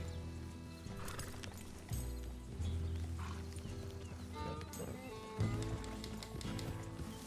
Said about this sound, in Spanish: Madre mía, cuánto caballo hay aquí